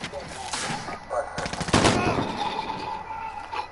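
Rapid automatic gunfire from Call of Duty: Modern Warfare (2019) in a team deathmatch, with bursts of shots clustered in the middle and a sustained firing run, amid game noise and someone talking.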